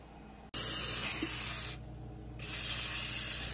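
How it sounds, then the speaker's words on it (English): Cooking spray hisses onto a pizza pan in two close, loud bursts, the first a sustained spray and the second following after a short pause. "we're gonna spray the pan."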